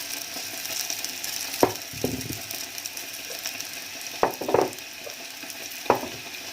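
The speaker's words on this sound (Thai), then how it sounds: "ตัวขนมเราทอดอยู่นะ" Thai kalochi dough snack frying in oil gives a steady, moderately loud hiss, broken by a few sharp clicks and a short rattling burst, with no voices.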